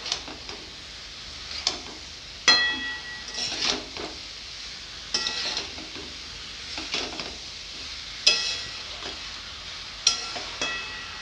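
Potatoes and flat beans, fried earlier, being stirred in a pan with a little water. Brief scraping and clinking strokes come at irregular intervals over a soft, steady background hiss, fairly close, with no talk.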